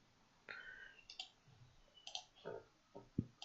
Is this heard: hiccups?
no